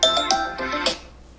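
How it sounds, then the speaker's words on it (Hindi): A mobile phone ringtone plays a short, bright chiming melody of several quick notes, close and clear, then stops. "ले आ गया अब इसका भी फोन।"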